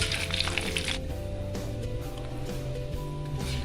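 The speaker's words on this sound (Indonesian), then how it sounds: "Kita goreng kemiri ini sampai berwarna kecoklatan" Candlenuts frying in oil in a wok, a steady soft sizzle and crackle with a few brief louder hisses early on, close and continuous with no talk.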